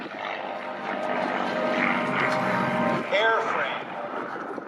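A P-51 Mustang with a Packard-built Merlin engine drones at an airshow, a sustained rumbling roar that swells slightly, with a brief rising-pitch sweep near the end.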